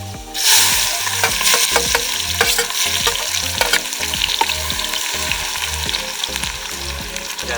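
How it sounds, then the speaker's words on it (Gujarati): Coarsely chopped onions added with garlic to hot oil in a pan, bursting into a loud, steady sizzle with stirring clatter and a low rhythmic hum beneath, no voices. "ડુંગળી નાખી દઈશું."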